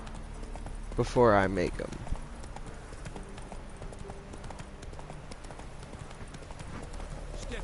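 Roach, the horse in the video game The Witcher 3, clip-clops in a brief burst of hoofbeats, followed by a low game ambience while someone talks over it.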